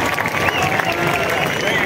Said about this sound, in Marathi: तेव्हा तिच्यासाठी जोरदार टाळ्या होऊन जाऊ.